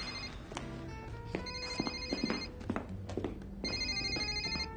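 A telephone rings in short repeated electronic trills at a fairly quiet level, with a few soft knocks and thumps in between and no talking.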